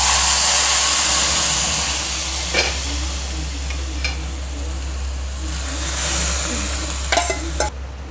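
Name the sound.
brinjal added to hot tempering, sizzling in pan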